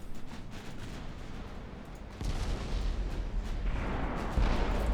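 Battleship artillery fire in the naval video game Ultimate Admiral Dreadnoughts, heavy booming salvos that thicken into a loud continuous rumble, stepping up sharply in intensity partway through.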